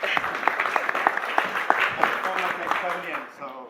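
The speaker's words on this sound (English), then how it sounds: "A warm applause for him too as well." An audience at a budget insights event applauds as a speaker takes the stage, a burst of many hands clapping that fades out toward the end, with some talk mixed in.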